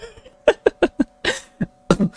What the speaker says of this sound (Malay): Batuk sikit